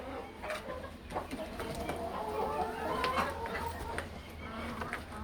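Chickens, including Eyes of Brown hens kept indoors at a farm with chickens and quail, cluck and murmur in a steady low chatter through the whole stretch, with scattered sharper calls rising above the flock.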